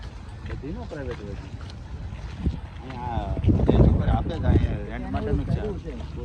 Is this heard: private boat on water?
yes